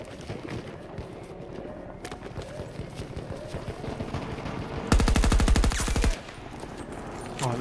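Automatic gun firing in the video game Battlefield 2042, one loud, close sustained burst of rapid shots lasting about a second, set against a steady low bed of distant battle noise.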